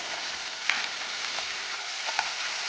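Tangra fish fry in a pan with a continuous bright sizzle and a couple of faint clicks or pops, close and steady with no one talking.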